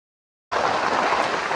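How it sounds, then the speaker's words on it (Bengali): Heavy rain in a Bangladeshi village bursts in abruptly after a short silence, then pours as a dense, loud, steady hiss of downpour close by. "অনেক জোরে পড়ছে বৃষ্টি।"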